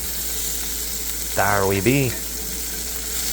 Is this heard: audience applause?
no